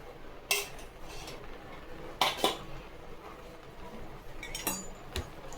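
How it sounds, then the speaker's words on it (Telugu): A spoon clinks and scrapes against a pan as gongura chutney is stirred with a tablespoon of oil: three or four sharp metallic knocks rise over a quiet background hiss, close but soft, with no talking. "తిప్పుకుంటూ నూనె వేసుకొని తిప్పుకుందాం"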